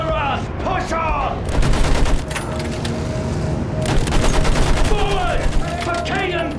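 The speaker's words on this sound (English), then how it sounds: "Use that machine gun, mow them down!" Machine gun fire in the World War I shooter Battlefield 1, a dense continuous barrage of rapid shots with heavier bursts, loud and close, mixed with battle noise and shouted voices.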